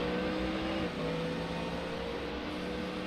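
A race car engine in the iRacing sim at the Bathurst 12 Hour drones at steady high revs, holding a sustained, fairly quiet tone with a slight pitch shift early on.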